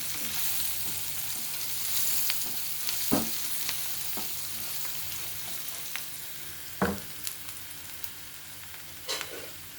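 Ingredients for a ridge gourd curry fry steadily in a pan with a constant sizzle, broken now and then by soft clinks and scrapes of stirring, all close up and without voices.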